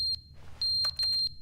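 A video game alarm clock sounds a quick run of sharp, high electronic beeps with a brief gap and some clicking between pulses, loud and close over a faint low hum.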